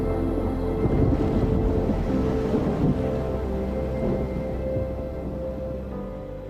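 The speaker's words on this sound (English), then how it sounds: "Off we went, sailing across the Gulf Stream to the Bahamas." Boat under way on the open sea crossing the Gulf Stream toward the Bahamas, with engines running; a steady, loud wash of water and wind rumble fills the whole stretch, no voices.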